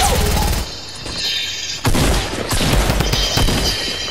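Shotgun blasts in a Fortnite firefight, loud sharp booms breaking through a dense, noisy mix of game effects, with one especially heavy blast near the middle.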